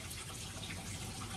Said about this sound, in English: So the water's just come on.